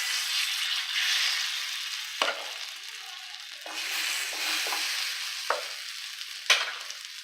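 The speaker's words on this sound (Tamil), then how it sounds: "தோசைக்கல் அடுப்பில் வச்சு மீன் போட்டுக்கலாம்." Marinated fish fries on a hot dosa griddle with a steady, soft sizzle, and a few sharp scrapes and taps of a spatula break through.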